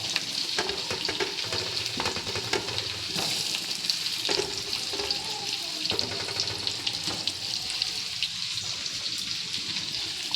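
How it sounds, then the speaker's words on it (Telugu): Large-cut potatoes fry with onions and curry leaves in a pan, a continuous close sizzle with stirring clatter and scraping throughout. "మనం ఇప్పుడు ఈ పెద్దగా కట్ చేసుకున్న ఆలు వేసుకుందాం."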